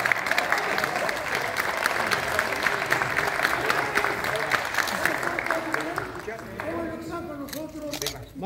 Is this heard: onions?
no